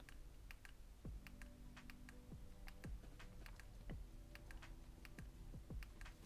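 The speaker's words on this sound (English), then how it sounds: "let's go ahead and do the clicky button test and see how clicky and responsive these buttons are" The power and volume buttons on an iPhone 13 Pro inside a Caseology Stratum case are pressed repeatedly, giving faint, crisp clicks spaced out over a quiet background.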